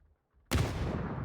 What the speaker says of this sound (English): Great nade though from Ice Boy.